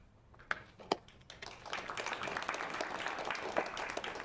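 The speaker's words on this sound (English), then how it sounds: "We have a great audience. They clap every time." An audience at a panel discussion on Ukraine's tech sector breaks into applause: a few scattered claps come first, then they swell into sustained clapping that continues to the end.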